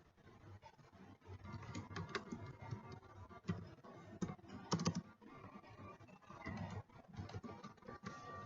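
Details are typed into a label on an MS Access report design, producing quiet, uneven bursts of computer keyboard clicks up close, with short pauses between runs of keystrokes.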